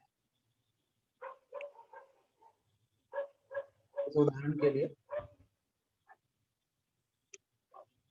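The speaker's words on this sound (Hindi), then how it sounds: "कुत्ता।" A dog barks several times in short bursts somewhere nearby, clear but moderate in level, with a teacher's voice talking over the middle of it during a classroom lesson.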